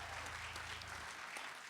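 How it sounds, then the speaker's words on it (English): An audience at a high school applauds a jazz band in a short, steady burst of clapping at moderate level with no voices. "give a big round of applause"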